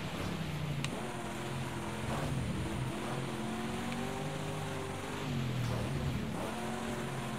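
Simulated Aston Martin race car engine in Project Cars 2 on a wet dirt track, revving and shifting continuously with rising and falling pitch, loud and steady throughout with no talk.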